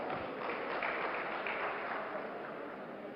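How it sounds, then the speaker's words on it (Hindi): Audience applause welcoming a poet onto a stage, a dense, steady clatter of many clapping hands filling the whole stretch and tapering slightly at the end. "जोरदार तालियों के साथ स्वागत कीजिए"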